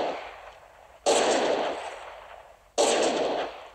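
Two gunshots in an excerpt from a Clint Eastwood western, each a sharp, loud crack followed by a long fading echo, spaced about two seconds apart, with no talk.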